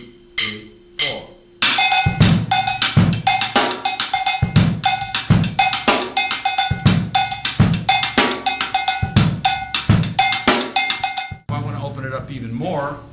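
A cowbell plays a steady ghosted-stroke pattern, loud and close, with regular accented hits over quieter in-between strokes and a short count-in of sparse hits before the groove.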